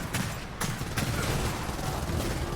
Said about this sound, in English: It is a Marksman Rifle, single fire.